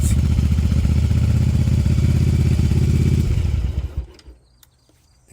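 A Yamaha Virago 750 chopper engine idles high at around 2,000 RPM with a loud, pulsing rumble and irregular popping, then winds down and cuts off, leaving near silence.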